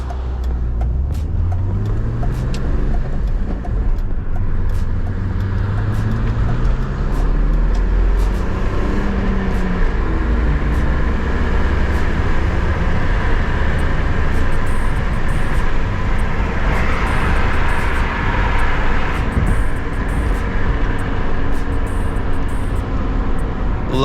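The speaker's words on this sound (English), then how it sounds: "forgot how much of the drivetrain you can hear in this thing when you're shifting through the gears and whatnot." A BMW E36 Z3 roadster's drivetrain hums steadily while driving, with engine tones rising and dropping through gear shifts, loud and continuous from inside the car.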